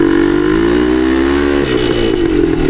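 A 1972 Yamaha DT2 enduro motorcycle's small engine runs loud and close with a steady buzzing drone, holding a fairly even pitch throughout with a slight dip late on, and no voices over it.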